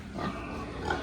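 Pigs grunt in a low, rough, continuous murmur on a pig farm, with a brief squeal near the end and no talk over it.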